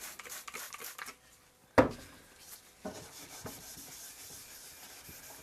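A Scotch-Brite pad scrubs across a wooden furniture surface in quiet, close rubbing strokes, with one sharp knock partway through and a softer, steady rubbing afterward.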